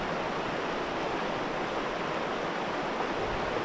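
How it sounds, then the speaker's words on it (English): River rushing near a campsite in the rain along the Salmon River, a dense steady broadband roar of flowing water and rainfall, constant and unbroken, with no voices. "Listening to the wonderful sounds of the river out there."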